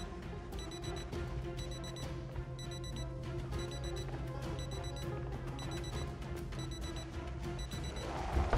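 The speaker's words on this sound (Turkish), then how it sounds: "Birinin alarmı çalıyor." An alarm clock rings in a zombie survival video game, beeping in rapid bursts that repeat about once a second throughout, layered over a continuous low game drone.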